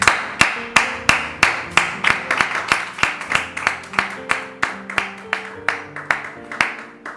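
A church congregation claps in a steady rhythm, each clap sharp and even, with a few voices singing or calling out beneath it.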